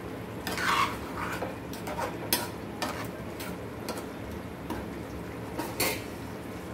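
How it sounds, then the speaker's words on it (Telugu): A curry pot being stirred after salt goes in, with a spoon scraping and clinking against the metal in irregular knocks over a faint background hum. "ఉప్పు వేసాను కాబట్టి ఒకసారి కలుపుకోవాలి"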